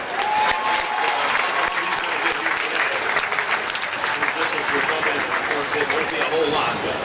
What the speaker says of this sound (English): Let's give him a tough luck round of applause.